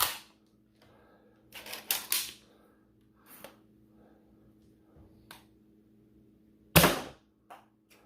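Skewer Blaster, a T-pull foam dart blaster, shooting heavyweight darts over a chronograph: a handful of sharp snapping shots with clacking loading between them, close and separated by quiet gaps.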